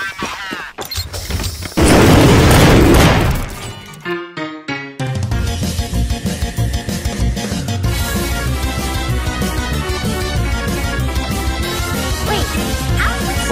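A loud explosion blast bursts out for about a second and a half, then fades into dense, busy background sound.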